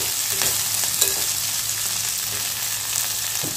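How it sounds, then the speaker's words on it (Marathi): Cluster beans fry in a pan over a low gas flame with a steady close sizzle, broken by a few soft stirring scrapes. "गवारी छान भाजली"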